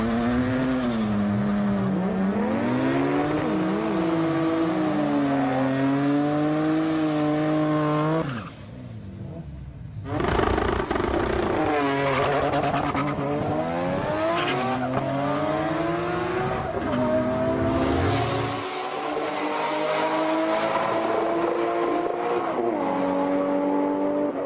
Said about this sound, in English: so big burnouts are essential